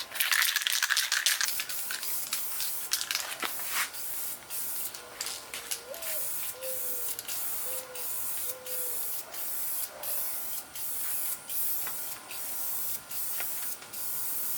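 A 2K clear coat sprayed from an aerosol paint can onto motorcycle parts: a loud, bright hiss delivered in repeated short bursts, close up, with small clicks and rattles between passes.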